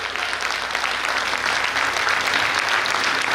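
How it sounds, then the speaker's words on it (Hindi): Loud, sustained applause from an audience at a tribute event honoring a singer, thick and steady clapping with no pauses. "एक बार जोरदार तालियां हो जाए इनके लिए"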